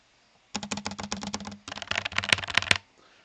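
Rapid typing on a mechanical keyboard, two close bursts of crisp clacking keystrokes with a short pause between, loud and near, no talk.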